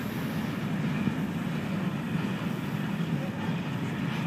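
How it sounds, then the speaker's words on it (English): A passing train gives a steady low rumble and rolling noise, continuous and fairly loud, with no break over the few seconds. "Watch the train right here."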